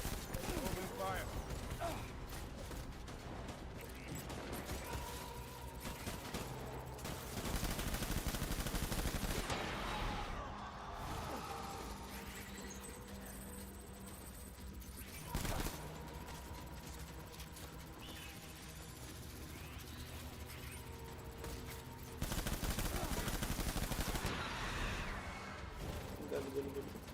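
Dense gunfire rattles through a Death Stranding battle, with long loud bursts around the middle and near the end over a steady game soundscape, while a voice talks at times beneath the shooting.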